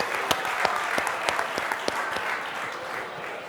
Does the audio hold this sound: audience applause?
yes